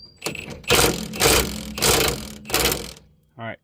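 A Milwaukee power tool works loose a rear hub bolt on a 2015 Chrysler Town and Country, firing four loud rattling bursts in a row, close up, then a brief whir at the end.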